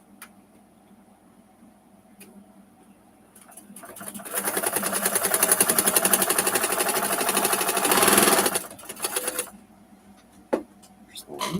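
A sewing machine stitching a quilt block for a snowflake pattern runs in one sustained whirring burst of about five seconds, close and fairly loud, with quiet handling clicks before and after.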